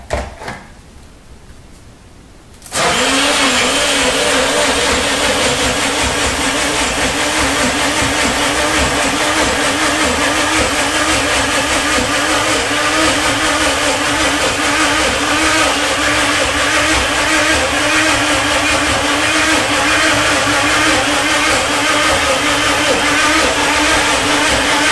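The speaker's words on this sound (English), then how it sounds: "we need to move over to the blender" After a brief quiet moment, a blender whirs on loudly and runs continuously at a steady, close, high-pitched roar.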